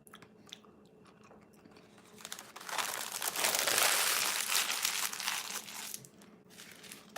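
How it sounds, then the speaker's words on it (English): Close, crisp crunching and crinkling of someone biting into and chewing crunchy Taco Bell tacos, starting with soft scattered crinkles and building into loud steady chewing before tapering off. "Just having some crunchy tacos and had my rattlesnake fries."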